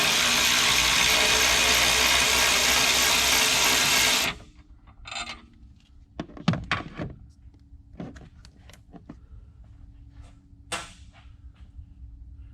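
A power tool, likely an impact gun, whirs loudly and continuously for a few seconds while removing a 13mm bolt from the battery bracket of a 2019-2023 Chevy Silverado or GMC Sierra 2.7L, then stops, followed by scattered clicks and handling noises.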